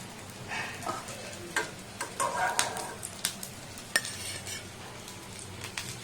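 A steady, low sizzle of eggplant frying in oil in a covered pan, with a few light clinks and scrapes of a utensil stirring.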